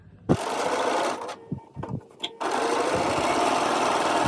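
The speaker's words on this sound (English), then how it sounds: "I'm going to go back to my machine, put in a few stitches" A sewing machine chain-piecing patchwork quilt pieces runs in two close, loud stretches of steady stitching, separated by a short pause filled with small handling clicks.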